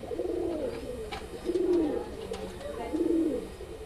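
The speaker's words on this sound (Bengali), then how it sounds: "এটা মাদি পায়রা" Green-eyed Madrasi pigeons coo close by in three soft, low, rolling phrases spaced about a second apart, with light rustling and clicks between them.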